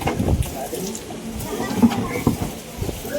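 Water falls from the mouth of a stone Nandi into a small old well, a continuous low splashing flow heard close, with someone talking over it.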